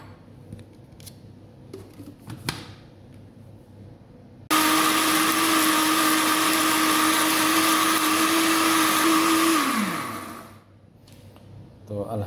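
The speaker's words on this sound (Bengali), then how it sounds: "এটা এখন ব্লেন্ডার করব।" An electric blender grinds soaked rice with water in a home kitchen, a loud steady whir that starts abruptly, runs about six seconds and then winds down; quiet kitchen noise comes before it.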